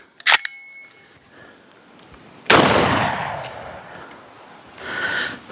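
A sharp, loud 12-gauge shotgun blast with a 36-gram cartridge, followed by a second heavy boom that rolls and echoes away outdoors, then a brief hiss.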